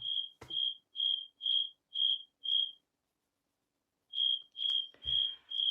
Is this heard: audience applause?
no